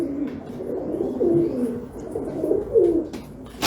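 Pigeons at a bird auction coo close by in soft, low repeated phrases, with a couple of clearer coos and faint background noise.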